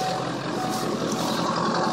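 A Powerstroke diesel truck idles steadily with its exhaust routed up through the bed to a vertical stack, giving a loud, continuous broadband rumble and hiss that stays even for the whole stretch with no speech over it.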